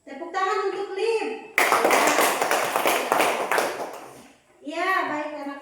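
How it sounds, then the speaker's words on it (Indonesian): Children in a classroom clap their hands together in a burst of dense, fairly loud clapping lasting a few seconds, framed by a teacher talking before and after. "Tepuk tangan untuk Lib"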